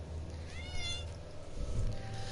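A house cat gives a single, fairly quiet rising meow near the middle, heard faintly over a steady low background hum with no talk.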